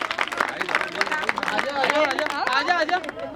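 Audience clapping at a women's empowerment gathering in Rajasthan, a steady burst of applause mixed with crowd chatter and a speaking voice throughout.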